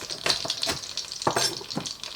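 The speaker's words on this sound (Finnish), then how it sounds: "siellä kuuluu jo pannusta tirinää" Fat sizzles in a frying pan as meat browns for a Karelian stew, a steady crackling hiss with a few louder spatters and stirring scrapes, close and continuous with no talk.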